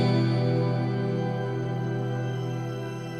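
A sustained, thick virtual guitar tone through an Octave Cloud effect in UJAM Virtual Guitarist Cinedream, with a doubled lower octave, droning steadily and slowly fading, with no voices present.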